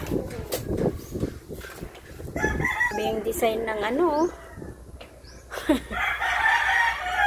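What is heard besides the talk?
chicken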